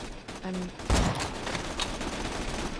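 Gunfire in the video game Borderlands 2, a dense burst of rapid shots with a heavy blast near the start and continuous crackling fire under voices and game noise.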